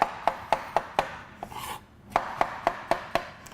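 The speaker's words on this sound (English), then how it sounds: "Now with these mushrooms, we want to chop them quite roughly." A knife roughly chops brown and white button mushrooms on a board in steady, evenly spaced thuds, about a dozen crisp cuts with a short pause midway, close and clear with no talking.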